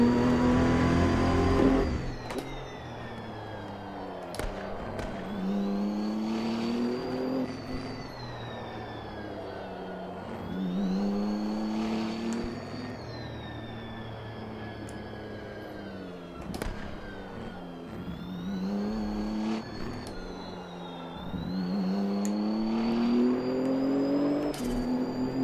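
Race car engine in the Automobilista 2 sim racing game, heard from an exterior view: a muffled, droning motor rising and falling through repeated rev climbs and gear changes, steady and fairly loud throughout.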